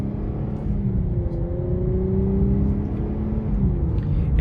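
A 2020 Infiniti Q60 Red Sport 400 in sport mode, its engine note boosted by artificial sound through the car's speakers, hums steadily from inside the cabin with a rising, droning tone.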